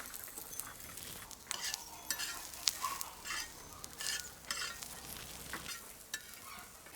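Onion frying in a pan with thanda masala and garam masala, a faint, soft sizzle broken by repeated scraping and stirring clatter.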